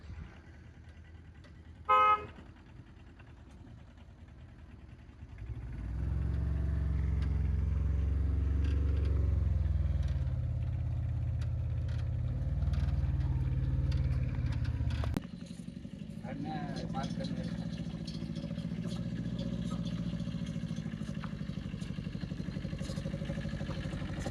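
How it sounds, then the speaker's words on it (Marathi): A short horn toot sounds early, then the heavy engine of a loaded vehicle rumbles up close and keeps running loudly, dropping slightly in level partway through, while people talk nearby. "तर काहीच बघा ही गाडी भरून आलेली आहे."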